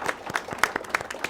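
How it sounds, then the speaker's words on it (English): A seated audience applauds panelists at a panel discussion, giving a short round of scattered, steady hand clapping with brief louder claps, heard close and without talk. "please join me to give a good round of applause to the"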